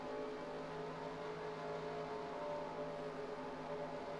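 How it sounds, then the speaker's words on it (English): Race car engines in the NASCAR Racing 2003 video game, a steady, fairly quiet engine drone that holds level throughout without talk. "I'm hearing some engines decelerating"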